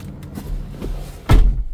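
A single heavy thud of a 2026 Transit AWD adventure van door shutting, loud and close, after a moment of quiet rustling.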